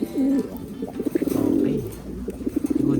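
Jansen racing pigeons pairing up, close, soft throaty coos repeating in quick rhythmic bursts, several overlapping low warbles filling the short stretch.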